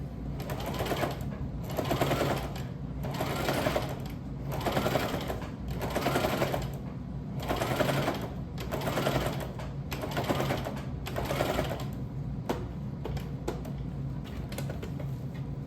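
Sewing machine stitching fabric, a steady mechanical rattle that surges and eases in regular bursts for about twelve seconds, then runs into a few separate clicks, close and with no voices.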